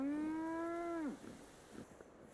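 A single long cow moo from a Fallout video game, loud and close, holding a steady pitch for about a second before dropping off, followed by faint low ambient noise.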